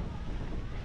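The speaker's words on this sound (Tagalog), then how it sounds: "Pero yung hangin malakas kaya baliwala yung ano" Strong wind buffets the microphone at a car campsite, a dense, steady low roar filling the short moment without voices.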